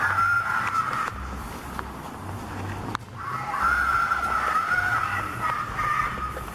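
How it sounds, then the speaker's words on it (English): A homeless man screaming on a street in the middle of the night, long strained wailing cries that break off briefly and then resume, loud and sustained. "just a homeless guy screaming on the streets"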